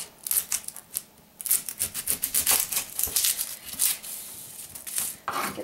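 A knife cuts the two ends off an onion on a cutting board, making a quick run of sharp close taps and scraping chops with short pauses and no talking.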